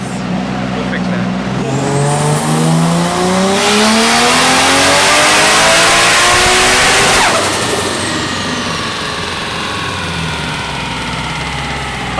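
An LS-swapped Mazda RX7 FD with a G30-660 turbo revs up through a third-gear dyno pull, engine pitch climbing steadily and loudly to a peak before dropping off. A turbo whoosh follows.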